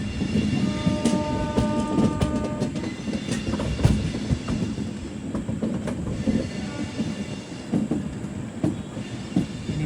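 A sleeper-class express train runs on the rails as it rounds a curve toward Renigunta railway station, with a steady loud rumble and rattling wheel clatter, brief tonal squeals or a distant horn early on, and no one talking.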